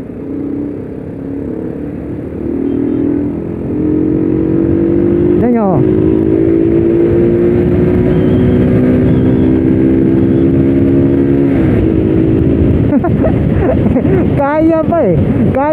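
A Rusi Neptune motorcycle engine runs hard in third gear at high speed. Its loud, close drone holds steady, with the pitch slowly sliding and a few quick revving sweeps.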